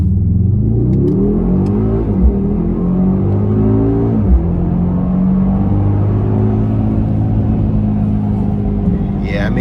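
A 2026 Mercedes-AMG GLS 63 pulls hard from a stop, its engine a loud rising rumble heard from the cabin, swelling through a couple of gear changes and holding a deep steady roar.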